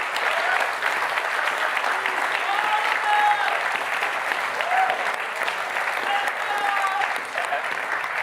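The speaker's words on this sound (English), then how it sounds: "Yes, you can give a big applause." An award ceremony audience applauds continuously, a dense, even wash of many hands clapping that holds steady for several seconds before easing slightly near the end.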